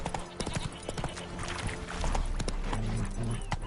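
Hooves of Roach, Geralt's horse in The Witcher III: Wild Hunt, clip-clopping at a steady run, close and clear, with a brief whinny and game music underneath.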